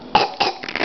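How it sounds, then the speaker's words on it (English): A few short, rough coughs in quick succession, close up, with little else around them. "Cough, cough."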